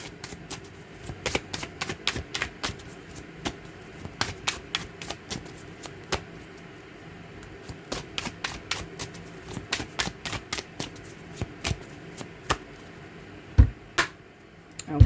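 Tarot cards being shuffled by hand, a long run of crisp riffling and tapping bursts in irregular rhythm, close and fairly quiet, with a couple of sharper knocks near the end and no talking.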